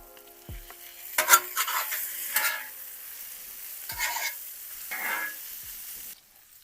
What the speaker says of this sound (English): Mix it in with these hash browns.